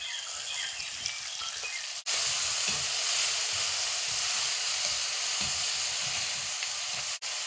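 Crushed shallots sizzling as they fry in a pan with oil, a steady loud hiss that jumps in intensity partway through and then holds constant.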